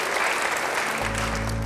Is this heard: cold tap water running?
no